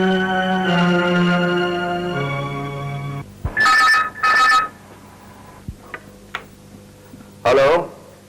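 An old-style telephone ring, a sustained tonal trill lasting about three seconds near the start, followed by people talking and a few light clicks.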